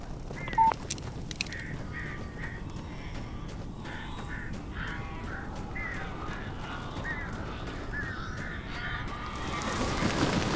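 Crows caw repeatedly in Alan Wake Remastered, harsh calls recurring in short bursts over a steady, dark ambient rumble that swells toward the end.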